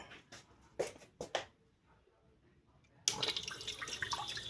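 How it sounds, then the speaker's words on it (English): An aquarium water pump in a grow-out tank switches on after a few soft taps and clicks, then runs with a steady close trickling, splashing flow of water to the end. "right now I'm about to cut this pump on"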